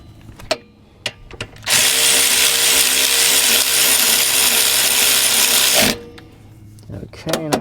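A power tool drives brake bolts tight on a Toyota RAV4 during a rear brake pad and rotor job, one loud sustained burst of about four seconds with a few sharp knocks of handling before and after.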